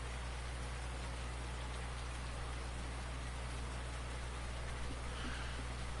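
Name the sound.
rainstorm in video game Farming Simulator 19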